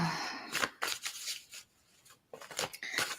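A deck of cards is shuffled up close in a quiet room, giving a series of crisp, riffling bursts separated by short pauses, soft and intimate with no talking.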